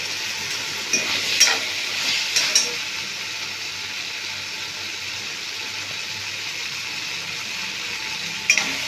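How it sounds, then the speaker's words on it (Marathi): Ground masala with ginger and garlic frying in oil for dhaba-style paneer curry, stirred in the pan: a steady close sizzle with a few sharp spatula scrapes and clicks, the last near the end, and no talking. "मस्त फ्राय करून घेणार आहोत."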